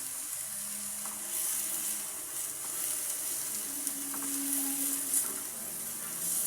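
Tofu sizzles steadily in a hot pan as it fries to golden brown, a continuous close hiss with faint crackles and no talking.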